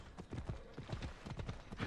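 A horse gallops fast through the Assassin's Creed Odyssey game world, its steady hoofbeats thudding in a quick rhythm, close and moderately loud with no talk.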